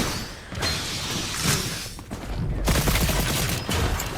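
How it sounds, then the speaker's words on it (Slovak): Gunfire in the video game Fortnite, bursts of rapid shots and booming impacts in quick succession, loud and dense with brief gaps between volleys. "Aha, týpek strieľal."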